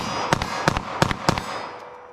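A pistol fires Underwood .380 ACP +P Xtreme Penetrator rounds in four sharp, loud reports at a quickening pace, each with a short ringing tail, no talk.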